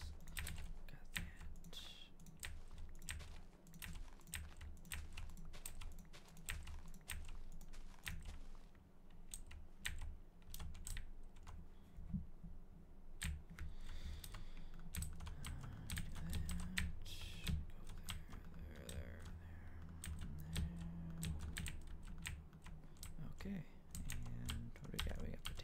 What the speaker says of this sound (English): I hope you're enjoying the keyboard and mouse click sounds